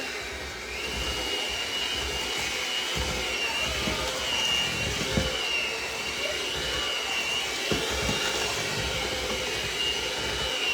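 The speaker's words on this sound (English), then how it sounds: "My mixer can barely handle it." An electric stand mixer labours through thick oatmeal banana cookie dough, giving a steady, loud motor drone with a strained whine and faint thumps of the beaters as they work.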